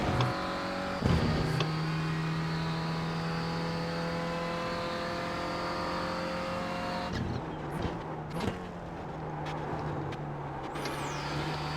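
A Renault Clio race car engine accelerates around Virginia's track, a steady buzzing drone holding throughout, with a couple of sharp thumps and a brief lull near the end.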